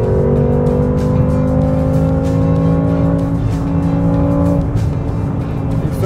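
BMW M6 Competition accelerating hard on an unrestricted autobahn, heard from inside as a loud, steady engine drone that climbs in pitch through gear changes, with road and wind noise.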